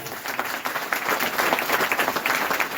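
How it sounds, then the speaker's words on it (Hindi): A church congregation claps loudly and steadily for a few seconds, dense applause with a faint murmur of crowd beneath. "जोरदार ताली बजाओ"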